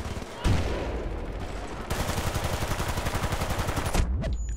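M60 machine gun in Battlefield Bad Company 2 firing a long, rapid burst close up. The shots come in a fast, even rhythm after a single opening shot and stop abruptly near the end.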